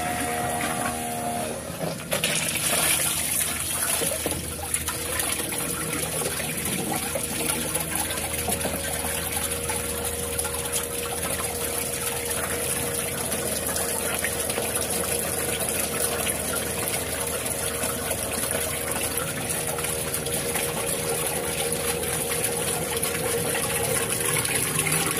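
A solar-powered submersible water pump pushes out a strong, high-pressure flow, giving a loud, steady gushing and splashing rush that runs unbroken for about 25 seconds with no talk over it.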